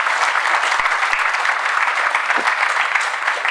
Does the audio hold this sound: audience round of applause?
yes